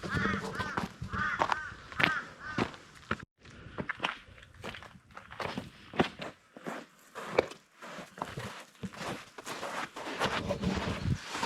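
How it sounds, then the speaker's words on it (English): Crows cawing as they circle a small hill in the East MacDonnell Ranges, harsh calls repeating at a middle distance over steady crunching footsteps on dry ground. "There's a whole lot of crows just circling around this little hill. They've been doing it for ages, making a racket."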